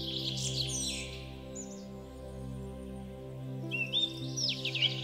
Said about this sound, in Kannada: ಇಲ್ಲೆರಡು ಕೆಂಪು ರಾಟವಾಳಗಳು ಗೂಡು ಮಾಡಿಕೊಳ್ಳೋಕೆ ಹುಲ್ಲಿನ ಎಳೆಗಳನ್ನು